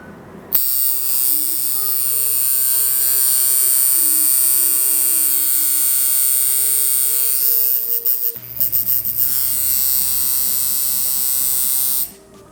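A coil tattoo machine buzzes steadily and loudly with a constant electric hum, pausing briefly and shifting pitch partway through as its springs and duty setting are adjusted, with no talking.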